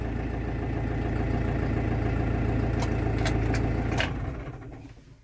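Massey Ferguson 5450 Dyna 4 tractor with a cold diesel engine idling steadily and close, a low even rumble with a few brief metallic clinks near the end before the engine shuts off and the sound fades out.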